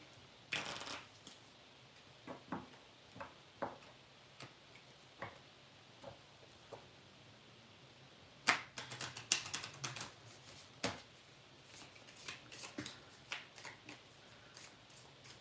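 Tarot cards being shuffled in a deck where the cards stick together, heard as a run of soft riffling bursts and scattered crisp flicks and taps, one louder snap near the middle, with no talking.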